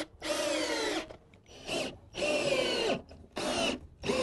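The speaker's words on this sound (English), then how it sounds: "So let's screw them in." A power drill drives screws through thin timber pieces into pre-drilled holes of a wooden frame, in four loud, close bursts of whirring with short pauses between them.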